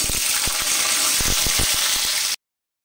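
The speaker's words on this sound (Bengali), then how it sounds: "একটা তেজপাতা দিয়ে দিলাম, দিয়ে এবার আলুগুলোকে আমি দিয়ে দিচ্ছি।" Potatoes and a bay leaf sizzle loudly in hot oil for a Bengali green pea and potato dish. A dense, steady frying hiss carries a few stirring knocks and cuts off abruptly.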